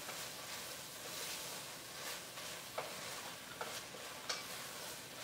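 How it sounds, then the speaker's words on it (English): A snack with garlic sizzles in a pan while a spoon stirs it, a steady quiet frying hiss broken by a few soft scrapes and taps. "Let me stir this up."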